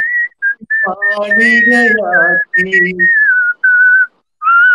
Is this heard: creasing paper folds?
no